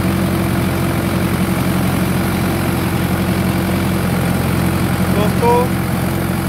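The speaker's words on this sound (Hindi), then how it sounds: "देख सकते हो आप कितने प्यार से चल रहा है ट्रैक्टर" Shaktiman 55 hp tractor running with an 8 ft rotavator in a field, a steady low diesel drone with even rumble, close and loud, with a brief higher whine near the end.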